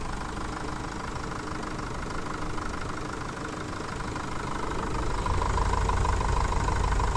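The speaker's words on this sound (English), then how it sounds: "We'll just let it idle and then it should be good enough to go." A Jeep Cherokee engine idles steadily with a freshly fitted 150 amp alternator, a continuous close rumble that grows slightly louder and deeper toward the end, with no talking.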